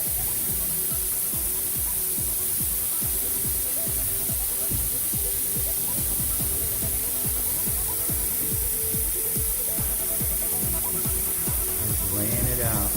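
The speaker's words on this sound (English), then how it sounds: "you guys can hear how effortless that sound is coming out of the" A Graco GH230 airless sprayer lays down extra white paint in a large room, a steady loud hiss with a rhythmic pumping pulse beneath, running continuously throughout.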